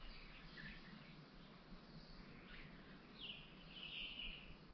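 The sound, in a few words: birds singing in a small forest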